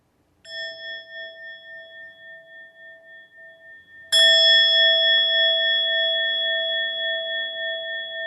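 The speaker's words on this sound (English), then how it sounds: "we're going to start with 3 sounds of this bell" A meditation bell rings with a pure, sustained tone, then is struck again more loudly, its shimmering hum pulsing slowly as it lingers.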